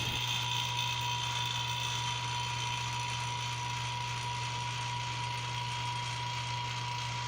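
Vacuum pump running while evacuating a homemade helium plasma glow tube, a steady mechanical hum with a faint ratcheting rattle, constant and close, with no talk.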